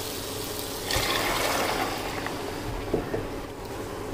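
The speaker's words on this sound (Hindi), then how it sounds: "अब हम इसमें ये छोले डाल देते हैं" Chickpeas are tipped into a pot of fried masala for chhole, giving a broad hissing splash and sizzle that swells, then settles into a steady bubbling hiss with a small clatter near the end.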